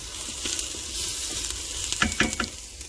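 Food sizzles steadily as it sautés in an Instant Pot, with a constant frying hiss and a few brief scraping or stirring sounds near the end.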